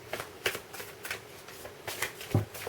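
A deck of cards being shuffled by hand, soft papery riffles and flicks in short bursts with brief pauses, close and quiet, with no speech.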